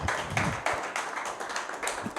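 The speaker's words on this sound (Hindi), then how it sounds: "ताली से बताइए सारे लोग" An audience at a talk on addiction recovery claps together in a dense, steady burst that stays fairly even for a couple of seconds, with no voices over it.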